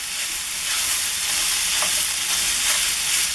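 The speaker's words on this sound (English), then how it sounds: "Right now we're just browning the meat." Sausage meat browns in a hot pan with a steady, dense sizzle and frying hiss, occasional faint stirring scrapes, close and continuous with no talk.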